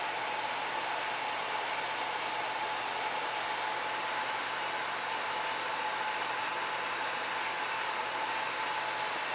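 A Miele vacuum cleaner runs steadily as a continuous broadband whoosh with a faint motor whine, loud and unbroken throughout while filtering smoky wildfire air.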